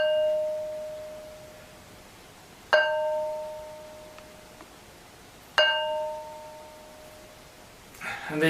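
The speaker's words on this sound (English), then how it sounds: "Demonstration how these stones ring like bells" A heavy stone of about 15 kilos is struck twice, each hit giving a clear metallic bell-like ring that slowly decays, followed by a brief rustle at the end.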